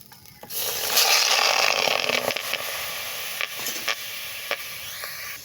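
Native chicken sautéed with only salt and no oil in a pan, a loud hissing sizzle that fades, with scraping and knocking from stirring, close by and with no talk.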